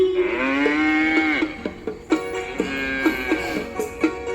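A cow moos loudly and close, one long low call followed by several shorter, choppier moos.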